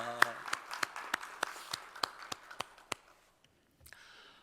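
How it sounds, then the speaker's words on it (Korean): A single voice says a short phrase in Korean, then a steady run of about a dozen evenly spaced claps from a church congregation follows, fading out near the end. "우리 찬양 받으신 주님께 영광의 박수 올립니다."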